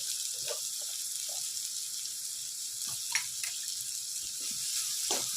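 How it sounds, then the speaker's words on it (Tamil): Oil sizzles steadily in a hot pan as onions fry, a constant bright hiss with occasional pops and soft scraping clinks. "இப்போ நம்ம எடுத்து வச்சு வெங்காயத்தை போட்டுக்கணும் வெங்காயம் கொஞ்சம் நல்லா வதங்கணும்"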